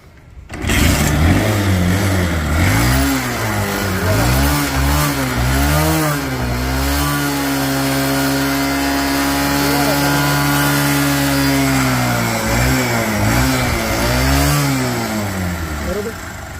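A Honda Shine 125 motorcycle engine cranks over and catches, then runs at close range, wavering through repeated revs and dips before settling into a steady idle that rises and falls again near the end.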